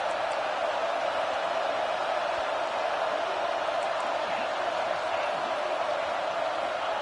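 A stadium crowd at a tight football game roars steadily behind the home defense on a big third down, a dense, sustained wall of noise with no breaks.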